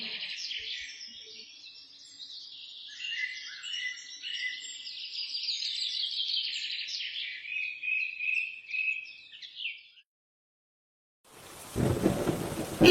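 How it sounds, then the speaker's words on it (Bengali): Steady rain hisses for about ten seconds, then stops briefly before a loud, close rumble of thunder crashes in near the end. "আবার যে বৃষ্টি শুরু হয়ে গেল"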